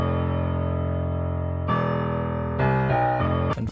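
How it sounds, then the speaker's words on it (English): Dark, low piano notes from a beat made in FL Studio: sustained tonal chords that change in several distinct steps, ending with a brief sharp percussive hit. "Next thing we've got dark piano"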